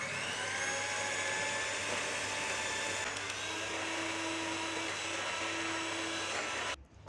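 Cream cheese, full-fat cream and sugar whipped for cheesecake filling with an electric mixer: a loud, steady high whine running nearly the whole time, then cutting off abruptly at the end.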